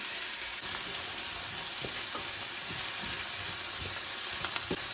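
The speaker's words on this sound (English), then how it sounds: "I'll fry all that up for about 5 minutes." Carrots and celery frying in a pan give a steady, close sizzle and hiss, with a few soft clinks and stirring bumps scattered through.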